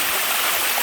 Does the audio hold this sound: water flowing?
yes